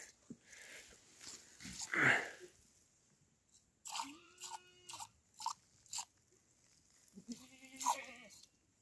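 A goat bleats several times in a Himachal village setting, short wavering cries close by, separated by quiet pauses and some crunching sounds.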